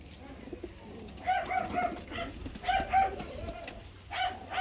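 Several pigeons coo softly in a repeating rhythm nearby, their low throaty calls coming in overlapping bursts over faint background noise, with no talking.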